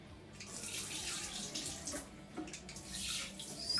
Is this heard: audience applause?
no